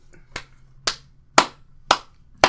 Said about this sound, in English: Please be softer with those claps.